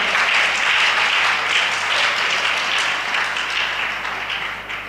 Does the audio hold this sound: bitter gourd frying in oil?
no